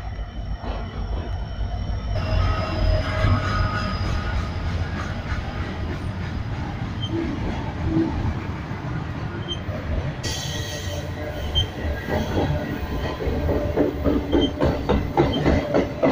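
A train rumbles past nearby with a steady, loud roar, metallic wheel squeal rising over the noise, growing brighter and harsher toward the end.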